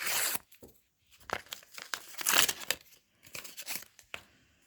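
A paper surprise packet being torn open in several short ripping bursts with crinkling between them, close up and fairly crisp.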